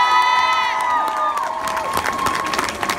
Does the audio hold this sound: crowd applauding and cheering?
yes